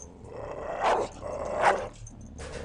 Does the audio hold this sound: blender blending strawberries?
no